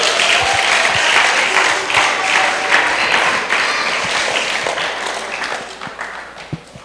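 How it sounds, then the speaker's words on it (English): Audience at an emancipation gala at a creative arts centre breaks into sustained clapping that is loud at first and gradually fades toward the end. "Let's give him another round of applause."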